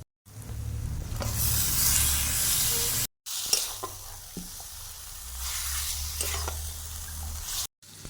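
Mutton with beaten sour yogurt sizzles loudly in a pan for a spicy mutton kosha, a dense close hiss with occasional spatula scrapes and knocks, interrupted by two short silent cuts.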